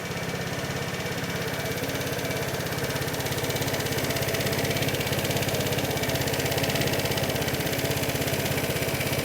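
A Vespa scooter engine idles steadily after starting, with an even, moderately loud running note and no voices over it.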